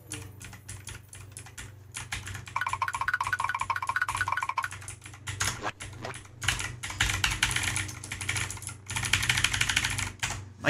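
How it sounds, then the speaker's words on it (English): Loud computer keyboard under fast typing: close, busy clacking in quick bursts with short pauses between, a steady low hum running underneath throughout. "My keyboard is so loud."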